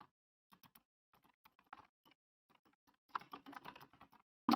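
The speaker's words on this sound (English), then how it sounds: "my keyboard is so fucking loud" Loud computer keyboard typing during a first playthrough of Kentucky Route Zero, with scattered keystrokes that build into a dense, rapid burst of clacking near the end, close to the microphone.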